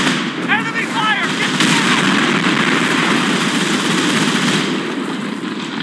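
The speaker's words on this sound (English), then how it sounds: "Enemy fire!" Dense, continuous gunfire and artillery-like bursts from a modern combat battle in the strategy game Company of Heroes: Modern Combat, loud and sustained throughout with a brief radio-style voice callout near the start.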